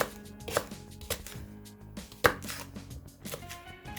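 Knife cutting green onion (daepa) into large pieces on a board, a handful of distinct chops spaced irregularly, one sharper and louder strike midway, quiet room in between.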